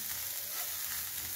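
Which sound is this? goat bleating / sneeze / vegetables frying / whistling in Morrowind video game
vegetables frying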